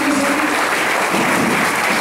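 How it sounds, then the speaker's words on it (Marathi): An audience at a jubilee felicitation for a priest, Fr Michael G, claps loudly and densely. The applause is sustained and even for the whole moment. "आपण जोरदार टाळ्या वाजवूया"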